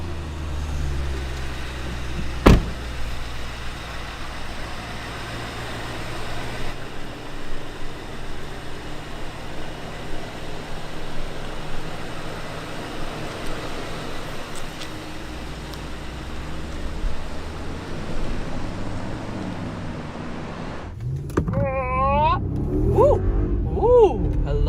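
Maybach GLS 600 SUV with a 4-litre V8 driving on the road: steady engine and road rumble throughout, with a brief sharp knock early on. Near the end a voice speaks over the cabin noise.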